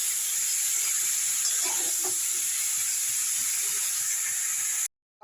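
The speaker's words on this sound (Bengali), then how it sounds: "দিয়ে এঁচড়টাকে আমি একটু লাল লাল করে ভেজে নেব।" Green jackfruit frying in plenty of oil in a wok, a constant close hiss and crackle of sizzling with faint stirring scrapes midway, ending abruptly.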